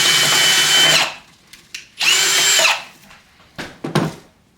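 A power drill bores drainage holes in a plant pot in two loud whining bursts about a second each, separated by quiet gaps, followed by a few short knocks and scrapes.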